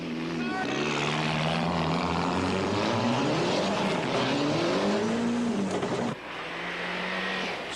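A rally car engine drones and revs along a forest stage of the 1994 Tall Pines Rally, pitch rising and falling through gear changes and passing close by, with a commentator talking over it.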